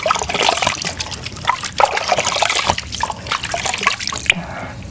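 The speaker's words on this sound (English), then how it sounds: "just lean over the bowl and just gently splash off" Water gently splashed off a face over a bowl, irregular trickling and dripping splashes close by, with soft wet patters and brief pauses.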